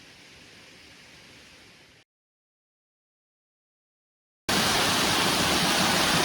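Rushing water from a waterfall at Dolly Sods, a steady broadband roar heard faintly, then a gap of silence, then much louder and closer.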